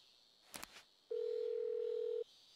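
A phone call tone in the video game Persona 4 Golden: a brief clicky burst, then a single steady electronic beep held for about a second, clean and alone over quiet background music.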